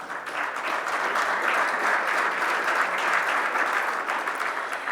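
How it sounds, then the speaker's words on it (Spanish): A security summit audience welcomes a speaker with sustained, even applause, a broad wash of many hands clapping at a steady loudness. "También lo recibimos con un fuerte aplauso."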